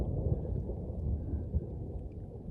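Deep, rumbling thunder rolls continuously through a severe thunderstorm that is drawing closer, a low, heavy roar with no voices over it.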